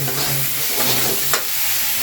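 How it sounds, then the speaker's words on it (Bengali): Greens frying in a pan are stirred, a close, steady sizzle with scraping stir strokes through it, one sharper scrape partway through. "এইভাবে একটু নাড়িয়ে দিচ্ছি আমি"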